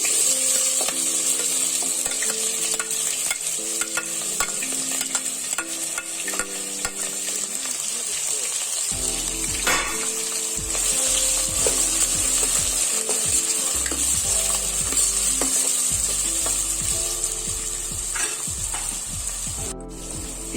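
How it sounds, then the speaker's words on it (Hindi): Onions frying in hot oil in a pan for chicken karahi, a loud steady sizzle that runs throughout with stirring and scraping clatter on top, close up and without talk. "ऑयल हमारा गर्म हो चुका है, प्याज डालते हैं।"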